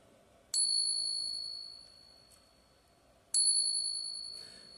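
Two separate taps on a Morgan silver dollar coin each ring out with a bright, high ding that hangs and slowly fades in a quiet room.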